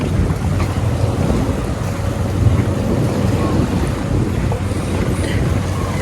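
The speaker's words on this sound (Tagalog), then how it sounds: "Bangka na yan" A fishermen's bangka boat passes on the water offshore, making a steady motor drone mixed with gusty wind noise for the whole stretch.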